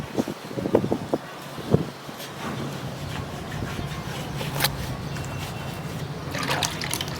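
Cold pond water splashing and trickling as someone bathes outdoors, with a few close splashes early on and a steady soft wash of water afterward, moderately loud throughout.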